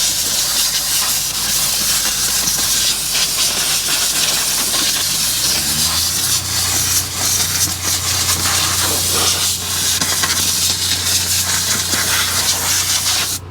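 Steady, loud broadband hiss of a gas cutting torch blowing the heads off M20 bolts at the back of a Powerscreen roller, running unbroken throughout with a low droning tone joining partway.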